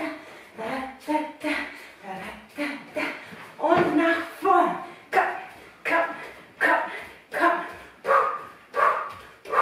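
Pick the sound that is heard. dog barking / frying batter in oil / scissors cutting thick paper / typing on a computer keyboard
dog barking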